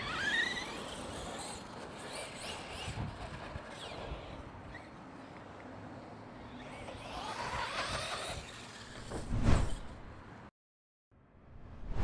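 A radio control car roars and whines across rough ground, its motor noise rising before a sharp thud of a landing, then a short gap of near silence and the motor starting again.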